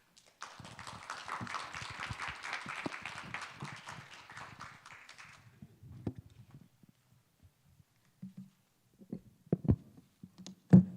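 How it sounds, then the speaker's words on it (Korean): An audience at a conference claps for about five seconds as a speaker is welcomed, then the clapping stops, leaving near quiet with a few faint knocks and shuffles. "김지훈 대표를 큰 박수로 모시겠습니다"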